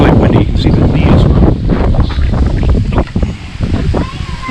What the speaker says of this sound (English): this is a windy fall day in Iowa